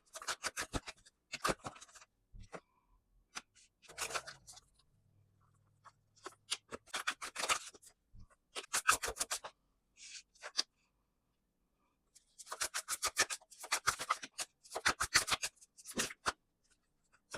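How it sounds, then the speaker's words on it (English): Tarot cards being shuffled close by in repeated bursts of rapid riffling and flicking, separated by short pauses of near silence. "So I'm going to go ahead and get these shuffled up."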